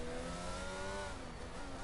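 Race car engine in a racing video game pulls into the pits with a steady, droning mid-pitched tone that holds fairly level, faint and alone.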